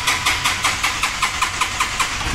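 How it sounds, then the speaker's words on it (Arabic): A Chinese Hojan motorcycle that is slow to start being cranked, giving a steady rapid series of rhythmic chugging pulses, close and loud, with no catch into a running idle. "ده موتوسيكل هوجن صيني، في مشكله ان هو بيأخر في الدواره ومش عايز يدور"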